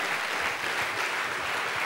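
An audience at a science slam breaks into dense, steady applause, with many hands clapping together in a sustained roar that fills the hall.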